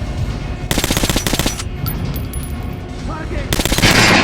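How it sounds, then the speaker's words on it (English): Rapid bursts of gunfire from the Metro Last Light Redux video game aimed at an armored target dummy, with two loud dense volleys separated by a quieter stretch. "Now shoot the armor dummy."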